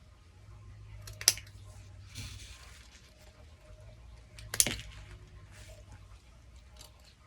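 Scissors trim the long yarn ends of a tassel, two sharp close snips a few seconds apart over faint rustling and a low background hum.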